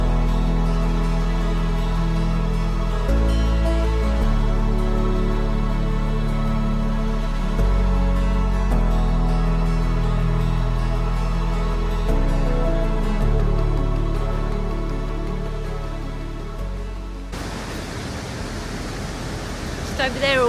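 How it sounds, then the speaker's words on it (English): Ouzoud waterfalls in Morocco roar as a loud, constant broadband rush of falling water, with tonal hum layered over it that shifts in steps, then a different, rougher water wash toward the end. "This is probably one of the best falls I've ever seen."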